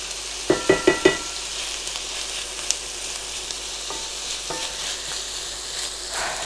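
Tomato goes into a softened base sauce for Georgian green lobio, with a few sharp clacks of a spoon on the pan, then a continuous close sizzle and occasional stirring scrapes.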